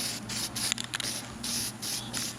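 Red lacquer spray paint hisses from a can onto the interior trim of a 1982 Corvette in a series of steady, close bursts with brief pauses between them.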